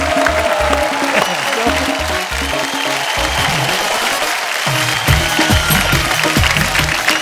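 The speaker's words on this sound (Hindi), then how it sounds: "एक बार जोरदार तालियां आ जाए" A studio audience on a TV comedy show applauds loudly and continuously, while music with a thumping low beat plays underneath.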